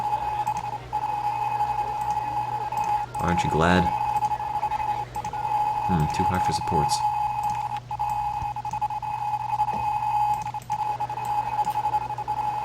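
Rapid electronic beeping from the Roller Coaster Tycoon game runs in a steady, fast repeating tone throughout, with someone talking over it in short bursts.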